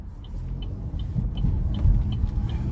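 A 2025 Buick Envista Sport Touring with a 1.2-liter turbo three-cylinder drives along, a low steady engine and road rumble heard from inside the cabin, with faint periodic ticking over it and no voices.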